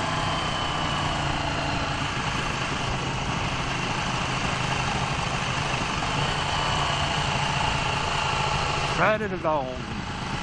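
A 2016 Ducati 1299 Panigale S engine idling steadily nearby, a constant low mechanical drone with a short rising-and-falling burst near the end, partly under a man's brief speech.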